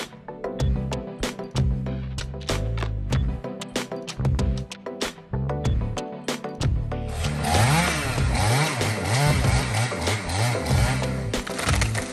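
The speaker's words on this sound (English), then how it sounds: "the power of the MS661 chainsaw, capable of felling trees over 30 m tall" A loud MS661 chainsaw roars and revs steadily while felling a tree, its pitch rising and falling as it bites into wood, running close by without pause.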